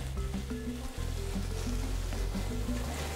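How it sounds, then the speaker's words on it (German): Potato pieces frying in hot oil, a steady dense sizzle and bubbling with low clattering bursts running throughout, close and fairly loud. "die Kartoffeln können sofort rein, wenn die fertig geschnitten sind"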